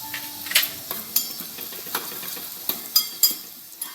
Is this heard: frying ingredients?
yes